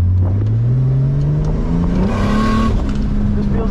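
Turbocharged Lamik car engine revving in a drift run, with a misfire fault: a close, loud engine note climbing steadily and then holding, rough and uneven, with a whirring edge.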